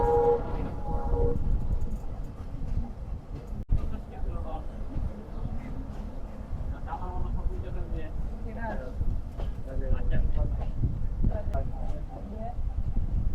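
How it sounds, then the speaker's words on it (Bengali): The Aparajita Commuter train pulls in and halts at Amnura Junction railway station in Bangladesh: a low, steady rail rumble with a brief horn-like tone early on and scattered clanks as it slows. "সকাল নয়টা তেতাল্লিশ মিনিটে অপরাজিতা কমিউটার এসে থেমে গেল আমনুরা জংশন রেলওয়ে স্টেশনে"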